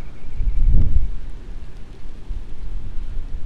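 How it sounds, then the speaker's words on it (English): Gusty wind and rain from an approaching storm in a hurricane-prone area, with a low rumbling surge partway through and steady roaring wind buffeting the microphone. "there's a storm coming"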